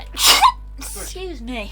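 A single sharp sneeze bursts out up close, followed right after by a voice talking.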